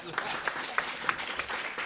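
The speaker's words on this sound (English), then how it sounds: "Yeah, a round of applause." Light, scattered clapping from an audience at a talk on Britain and China's creative partnership, a few sharp separate claps over a soft murmur of room noise.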